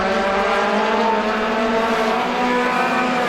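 Race cars roar around Star Speedway in a NEMA Lite feature, a continuous loud engine drone with layered tones that stays steady throughout, with no talking.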